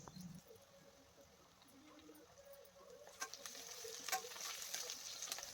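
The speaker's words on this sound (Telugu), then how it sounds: "ఇలా వేగుతున్న ఆనియన్స్‌లోనికి 2 రెమ్మల కరివేపాకును కూడా వేసి వేయించుకుంటున్నాను" Sliced onions and sprigs of curry leaves fry in oil, making a faint, soft sizzle with occasional light clinks that grow a little louder toward the end.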